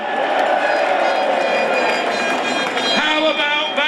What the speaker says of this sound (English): A crowd of Brexiteers cheer Tony Blair.